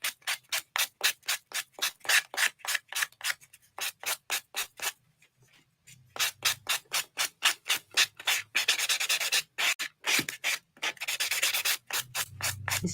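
Acrylic nails are filed with a 100/180 grit nail file in fast, rhythmic rasping strokes, loud and close, with a brief pause midway before the scraping resumes more densely.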